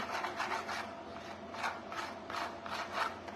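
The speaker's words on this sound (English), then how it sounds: "So I'm gonna scrape" Rhythmic rasping scrapes while decorating a Nativity scene with a midnight-shimmer finish, close and fairly even, repeating roughly every half second with no voices.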